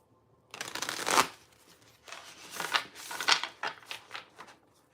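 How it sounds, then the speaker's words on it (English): Playing cards are shuffled up close in several quick riffling bursts, crisp and papery, with short pauses between them and no talking. "I'm just shuffling the cards."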